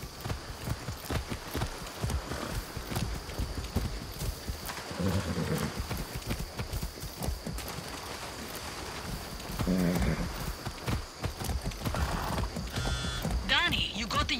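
A horse ridden in the Far Cry 6 video game: its hooves clip-clop in a steady rhythm close by, with a snort or whinny partway through and other game sounds around it.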